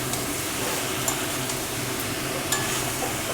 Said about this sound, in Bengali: এবারে আমি ওই কুমড়ো আলুটা দিয়ে দিলাম, দিয়ে এবার ভালো করে নাড়তে হবে, মশলার সাথে ভালো করে নাড়তে হবে।